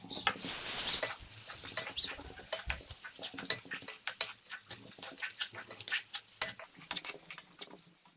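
Chopped onion is sautéed in a pan for poha upma. A fairly quiet sizzle sits under rapid, irregular spatula clicks and scrapes against the pan, with a brighter burst of hiss at the start.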